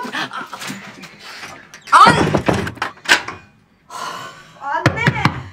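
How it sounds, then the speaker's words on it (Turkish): Someone bangs on a closed door with loud, irregular thumps in short bursts, while a voice calls out and talks between the blows close by. "Anne açsana kapı."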